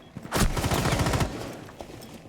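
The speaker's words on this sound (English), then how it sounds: "Doesn't know where that gunfire is coming from." Rapid automatic gunfire in a competitive esports shooter match, a single loud sustained burst lasting about a second, followed by a faint trailing shot.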